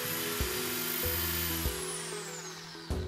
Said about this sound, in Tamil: அந்த பொசிஷன்ஸ்லாம் மார்க் பண்ணி ட்ரில் பண்ணிக்கலாம்